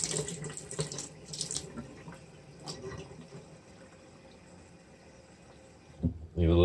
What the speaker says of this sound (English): I'm going to fill that with the warm side of water.